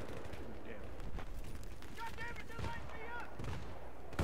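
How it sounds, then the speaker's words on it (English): Battlefield 3 combat gunfire crackles in rapid shots with heavy booms mixed in, moderately quiet, while someone speaks over the battle. "Man, under fire here."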